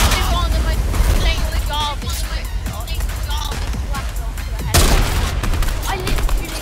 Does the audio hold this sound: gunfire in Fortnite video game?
yes